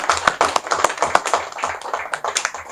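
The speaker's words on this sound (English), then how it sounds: "You can clap for him again." An audience claps at an event honoring Aliko Dangote, with loud, uneven rapid hand claps close by and a few sharper individual claps standing out, lasting a few seconds without speech.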